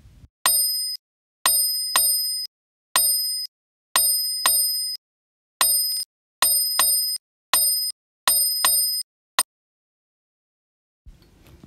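Pro Metronome app clicking out a Khanda Chapu tala, bright bell-like tones in repeating irregular groups of two and one, crisp and close, ending with a single tick before a faint noise.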